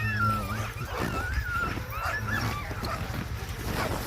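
Sled dogs in Ilulissat, Greenland whimpering and yelping in high wavering cries, several animals close by over steady outdoor noise.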